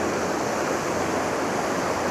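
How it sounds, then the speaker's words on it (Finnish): Rapids on the Isar river rush in a continuous broadband roar of churning water, steady and close with no other sounds over it. "koski tossa. Tosta ei viittis mennä millään veneellä."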